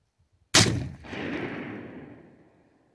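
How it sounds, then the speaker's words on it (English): A .50 caliber Hawken Woodsman muzzleloader rifle fires a patched round ball at a pumpkin outdoors, giving a single sharp, loud report that is followed by a long rolling echo fading over about two seconds. "Alright, let's shoot this pumpkin."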